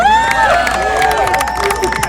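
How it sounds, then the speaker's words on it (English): Crowd noise at an Indian Independence Day flag hoisting in Times Square, New York, a steady wash of cheering and scattered shouts with tonal sounds sweeping over it, carrying loud and continuous for the whole moment. "Let's give the Federation a round of applause"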